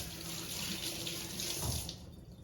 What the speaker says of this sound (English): Give our hands a little bit of a wash.